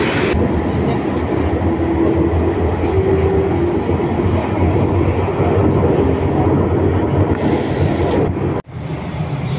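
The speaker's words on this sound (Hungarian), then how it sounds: "Mert 19 van, még van 11 percem, és most jön a villamos" A Budapest tram arriving on Budafoki út rumbles and rattles steadily close by, its rolling wheels loud and continuous, ending in a brief thump before quieting.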